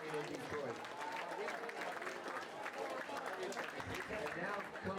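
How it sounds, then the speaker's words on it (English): At a bowling tournament, a crowd gives the champions a sustained round of applause, with dense clapping that holds steady and loud for several seconds and some crowd voices mixed in. "please give them a great round of applause"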